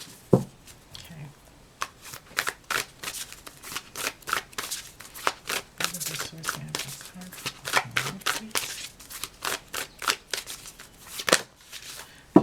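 Oracle cards being shuffled by hand, a dense run of crisp riffling snaps and soft slaps repeating steadily and close up, alone with no talking.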